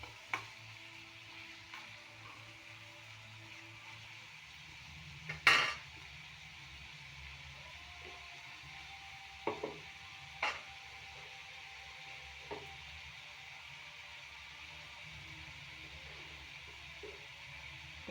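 Salted onions fry quietly in a pan while a utensil occasionally scrapes and taps through them, leaving a faint steady sizzle between scattered clinks.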